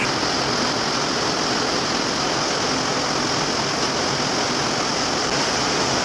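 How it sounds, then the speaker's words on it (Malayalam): A dense, unbroken roar of heavy rain pours down, a steady wash of noise with no pauses or voices. "മഴ"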